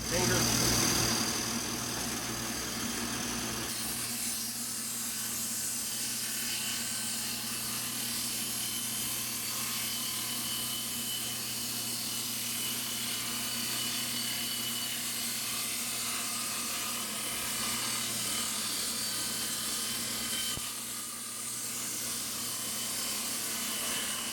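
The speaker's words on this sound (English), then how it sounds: "So we're going to cut this 2x4 in half, which means we would have to set the table fence to 3/4 of an inch so we can get an even cut." A table saw rips a 2x4 board lengthwise in half to make rails for a bookshelf; a steady, droning motor whine with a cutting roar runs continuously at close range.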